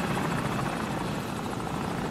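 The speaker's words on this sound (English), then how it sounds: "Enemy helicopter! Get down!" Enemy helicopter in the Modern Warfare campaign, a steady loud rotor thump and engine roar that holds without a break for the whole span, with no talk over it.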